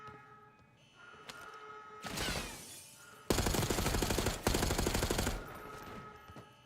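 Bursts of rapid automatic gunfire in a video game, two or three loud rattling volleys separated by brief gaps, with quieter game sounds before and after.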